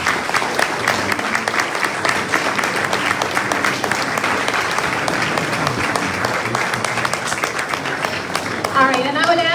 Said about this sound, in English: can we give Chris a round of applause?